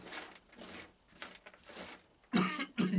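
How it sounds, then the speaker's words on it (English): A series of close coughs, several dry hacks followed by two heavier, louder ones at the end, brought on by handling perlite. "I always get a cough when I start messing with perlite."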